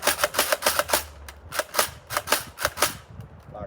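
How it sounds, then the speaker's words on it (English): X-Shot Longshot toy blaster slam-firing darts, a rapid series of sharp plastic clacks in two quick bursts with a brief pause between them. "I think this has slam fire."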